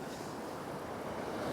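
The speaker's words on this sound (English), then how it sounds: "Oh, here's a big wave." Ocean waves wash onto a foggy shoreline in a steady, continuous roar of surf, fairly close and even in loudness, with a faint wind rush and no voices.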